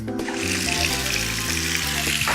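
Tap water runs steadily into a bowl that serves as a bucket, a loud continuous gushing splash close by with a slowly shifting tone as it fills, and no one speaks.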